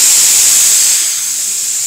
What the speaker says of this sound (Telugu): వేడిగా ఉన్న పెనం పైన ఇలా చక్కగా ఉల్లిపాయ రుద్దితే అస్సలు అంటుకోదు.